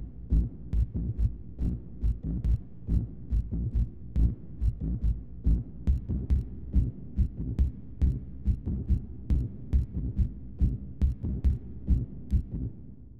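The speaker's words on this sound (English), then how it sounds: "The first layer is the Submarine Mine preset, which I use to create a super low pulse that drives the entire track" Submarine Mine preset from Output's Signal, a super low bass pulse throbbing in a steady, even rhythm like a slow heartbeat, loud and alone throughout.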